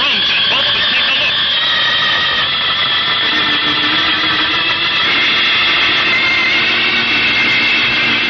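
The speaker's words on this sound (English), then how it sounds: "You and I are blasting over there in our own jet boat to take a look." A radio-drama rocket engine effect for a jet boat gives off a loud, steady roaring whine with shifting tones, running continuously throughout.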